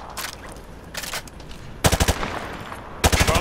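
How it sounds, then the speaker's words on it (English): Automatic rifle bursts fired from the hip on a shooting range in Call of Duty Modern Warfare 2 rattle out in four sharp, loud volleys separated by short pauses. "Just fire from the hip."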